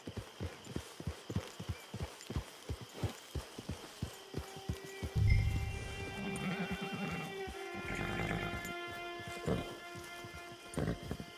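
In Red Dead Redemption Online, a horse clip-clops along in a steady rhythm of hoof falls, then gives a loud neigh and snorting whinnies midway before the hoofbeats continue, with faint game ambience behind.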